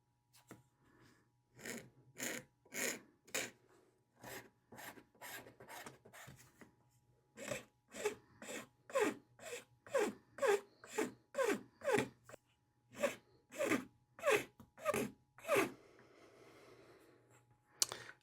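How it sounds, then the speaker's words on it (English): A hand file rasps across a small metal piece being shaped, likely a button, in steady back-and-forth strokes, roughly two dozen close, crisp scrapes with brief pauses between bursts and a low hum underneath, no talking. "let's do some filing on it and get it shaped up a little bit"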